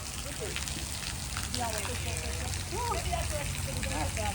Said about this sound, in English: It's just a light drizzle.